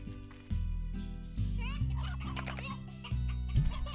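Chickens cluck in the video game Slime Rancher, several rapid warbling calls over a steady background game music bed, moderately loud and close.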